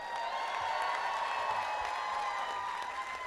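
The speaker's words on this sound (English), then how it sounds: "give a thunderous applause to the BCC faculty once again" Audience applause for the faculty at a Bronx Community College commencement ceremony, a steady wash of clapping from a large crowd, fairly distant and even throughout, with a held tone running under it.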